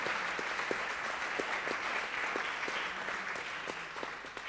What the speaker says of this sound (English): So please applause for them because of their work.